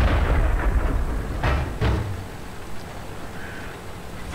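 A tank gun fires in the video game World of Tanks, giving two heavy booming shots in close succession over a low rumbling engine bed, with no one talking.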